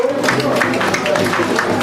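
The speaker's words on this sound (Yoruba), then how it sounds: "àtẹ́wọ́ yẹn ò tó" Crowd applause at an Isese Day gathering in Lagos, Nigeria: steady, dense clapping from many hands, moderately loud and continuous, with an amplified voice talking over it.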